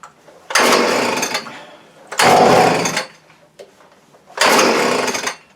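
A Hitachi leaf blower's small engine is pull-started with the choke on, giving three loud, roughly second-long bursts of cranking and sputtering, each followed by a pause.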